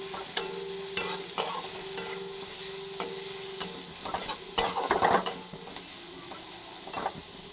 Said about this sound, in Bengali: পেঁয়াজটা একটু ভাজা ভাজা হলে একটা কাঁচা লঙ্কা ভেঙে দিয়ে দিলাম।